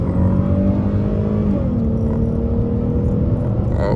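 A Dodge Challenger on 24-inch wheels with an 8-speed transmission accelerates, its loud engine drone rising through the gears with audible shifts, heard continuously from inside the car.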